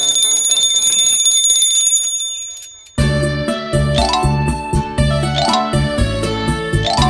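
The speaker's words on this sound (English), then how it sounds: "tinkling bell." Bright tinkling bell of a small ice cream cart in a cartoon park, jingling alone and loud at first, then joined by a full, busy musical backing.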